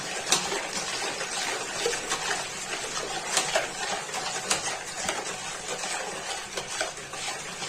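Water poured into a liquid soap mixture, a steady close gushing and splashing wash of sound with small bubbly spurts, no talk over it.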